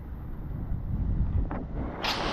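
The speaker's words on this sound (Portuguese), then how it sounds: "Porque tá muito vento." Strong wind blows along the coast at Ponta Arraçã in Porto Belo and buffets the microphone with a continuous low roar. A brief hiss comes near the end, and no one speaks.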